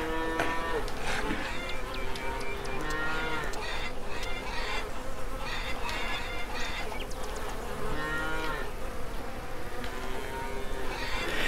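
Cattle moo repeatedly in the video game Lumberjack's Dynasty, several drawn-out calls overlapping at moderate distance above a constant buzz of flies and insects, with no talk.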